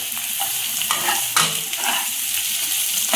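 Baby potatoes frying in a pan over a medium flame, with a constant bright sizzle and a few clinks and scrapes of stirring, no voices.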